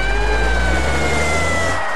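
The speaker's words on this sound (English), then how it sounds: "Is that a siren I hear?" A loud, steady wailing siren with a strong rumbling engine underneath, sustained close throughout.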